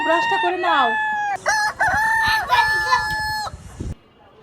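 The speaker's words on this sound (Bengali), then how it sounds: "মোরগ ডাকছে" A rooster crows in the morning in one long, loud, wavering call, and a person speaks briefly as it fades.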